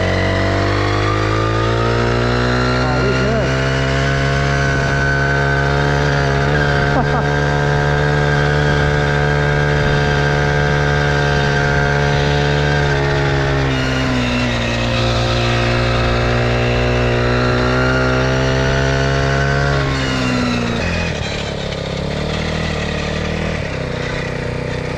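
A Blaze 49cc gas scooter engine runs steadily while being ridden around a parking lot, a loud close buzzing drone whose pitch shifts a little as the throttle changes, with no talk over it.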